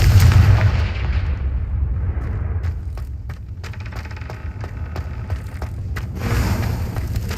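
Confringo fire-blast spells in the Hogwarts Legacy video game, a heavy booming blast at the start followed by a string of sharp, percussive bursts and crackles, with rumbling echoes and a second blast near the end.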